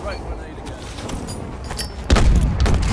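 A frag grenade going off in the video game Call of Duty: Advanced Warfare, a sudden loud blast near the end following scattered clicks and game noise.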